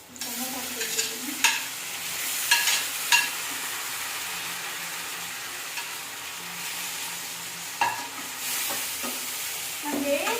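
Tomatoes sizzle steadily in a hot pan for tomato gojju, a loud, close, even frying hiss broken by a few sharp clinks and scrapes of stirring, with no voices.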